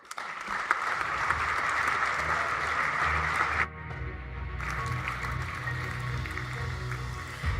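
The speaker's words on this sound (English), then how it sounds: "A warm round of applause as she takes her seat" Steady applause fills a large room at an engineering awards evening, a dense wash of clapping that briefly shifts in tone midway and carries on to the end.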